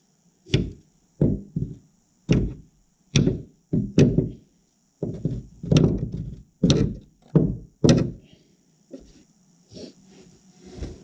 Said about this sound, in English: if knocking it with a hammer